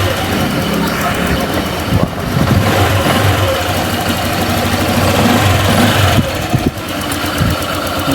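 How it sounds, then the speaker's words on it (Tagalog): A Honda Click V3 scooter engine runs continuously at a steady idle, close and loud, with a constant rattling drone throughout; the scooter has an overheating problem, blowing out coolant. "Hindi naman, tahimik naman yung makina eh."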